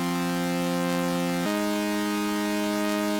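Synth root notes doubled a fifth up, a bright buzzy sustained tone holding one chord then stepping to another partway through, loud and steady with no voices.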